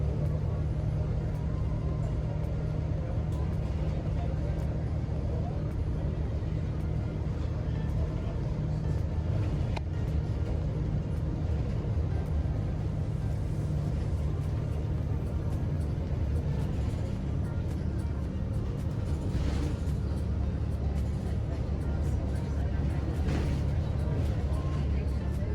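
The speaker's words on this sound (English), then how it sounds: "The bus ride back to town is scenic and relatively quick." Public bus ride in Aruba, with a steady low engine rumble and road noise from inside the moving vehicle, continuous and even throughout with faint rattles on top.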